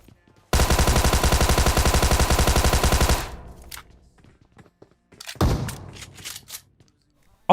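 Tommy gun fired in PUBG Mobile on Erangel: a loud, rapid automatic burst of about two and a half seconds, then scattered thumps and a second, louder impact sequence.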